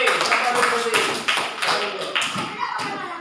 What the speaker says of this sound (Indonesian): Oke, tepuk tangan buat kelompok C.